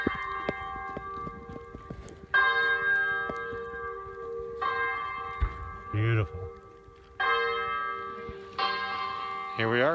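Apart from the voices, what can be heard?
church bells ringing at Santuario de Chimayo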